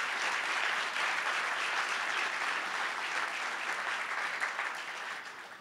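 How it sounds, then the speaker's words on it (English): A luncheon crowd gives sustained applause to honour an employee's 20-year anniversary, many hands clapping in a dense, even wash that stays steady before easing slightly at the close. "Big round of applause."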